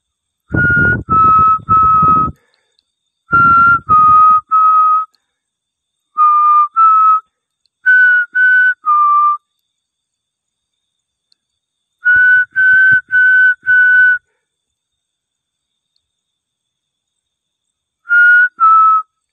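A person whistles short clear notes in groups of two to four, pausing between phrases, with a few low thumps under the first notes.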